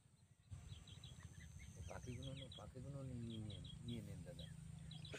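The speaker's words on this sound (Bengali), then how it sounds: "চুপ করে থাকো, দেখো পাখির আওয়াজ শোনো" Several birds chirp and call in short, repeated bursts across mustard fields near a wetland close to Kolkata, over a low background hum, with a person speaking through much of the stretch.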